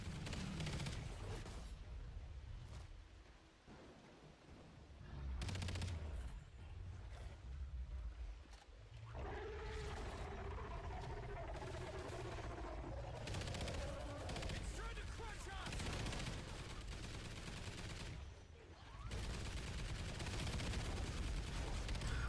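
Rapid bursts of portable turret gunfire in the Mayday mission of a shooter video game, loud and sustained, mixed with game effects and a voice talking over it.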